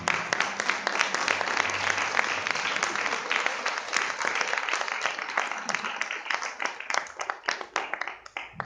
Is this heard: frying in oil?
no